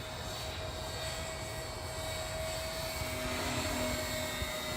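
A small model V-22 tiltrotor aircraft in helicopter mode hums steadily overhead with a whining rotor tone, fairly faint and distant against outdoor background noise.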